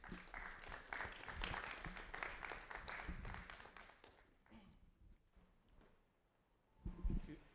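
An audience at a public lecture event applauds as a poet is welcomed, with clapping that swells, then thins and fades to near silence before a brief louder burst near the end, overall quiet and somewhat distant.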